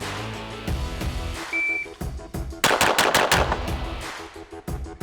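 Five pistol shots fired in quick succession during competition shooting training, sharp loud cracks bunched in a fast string, preceded by a brief electronic shot-timer beep, with a few more scattered impacts afterward.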